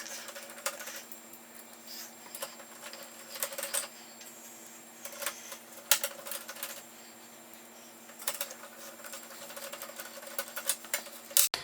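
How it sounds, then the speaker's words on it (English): Small screws being driven by hand into fan mounts on a DeepCool MACUBE 110 PC case make quiet, irregular clicking, scratching and ticking over a steady faint hum, coming in short bursts separated by pauses. "I just have to finish screwing them in all the way so we don't get any weird vibrations."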